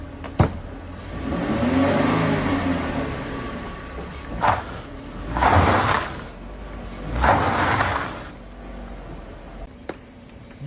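A Ford Mustang's engine revs in bursts as it is pulled out from under a fallen fence after a tornado in Chicago, a low rumble followed by three rising roars with sharp clicks and creaks between them, moderately close.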